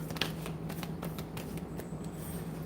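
Tarot cards are shuffled close up in a quick, steady run of crisp riffling flicks and soft slaps, with a low hum underneath and no talk.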